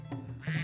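A cartoon duck, presented as one that lays golden eggs, gives two short nasal quacks, close and clear, in a brief exaggerated animated sound effect.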